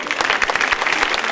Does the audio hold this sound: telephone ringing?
no